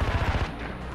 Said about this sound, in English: Damn explosions.